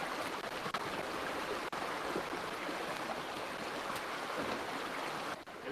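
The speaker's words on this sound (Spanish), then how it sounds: "aquí ya viene lisa el agua. Esto es flujo laminar" Smooth laminar water flow in a lab flume setup runs as a continuous, even wash of broadband rushing sound, fairly quiet and steady throughout with no voices.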